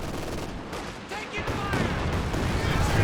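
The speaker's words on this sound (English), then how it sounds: "Katyusha coming in." Katyusha rocket artillery barrage in Company of Heroes 2, a dense rumbling run of blasts and whooshes building steadily over a few seconds, with battlefield noise and commentary running over it.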